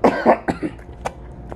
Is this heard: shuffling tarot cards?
no